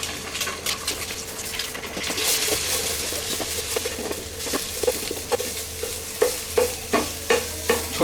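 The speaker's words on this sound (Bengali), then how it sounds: "এখন আমি একটা প্যানে তেল গরম দিয়ে তার মধ্যে একটা ডিম স্ক্র্যাম্বল করে নেব।" A single egg with a little salt is scrambled in hot oil in a pan, with a steady sizzle under stirring scrapes that turn into a run of sharp, rhythmic taps toward the end.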